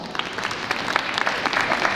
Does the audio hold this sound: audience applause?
yes